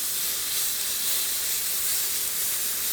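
Stuffed mushrooms searing on a hot camp griddle outdoors, giving a loud, close, continuous sizzle and hiss that stays steady throughout with no talking.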